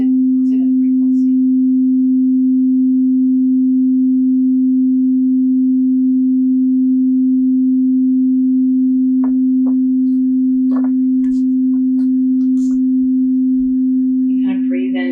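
A pure, steady low sine tone played for root chakra healing hums continuously at constant loudness throughout, with only faint scattered clicks beneath it.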